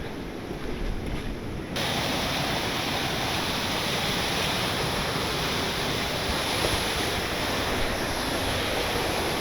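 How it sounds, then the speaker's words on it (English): Steady, dense rush of a waterfall outdoors beside a rock, a broad continuous roar with no break, close and loud throughout. "Back to our waterfall."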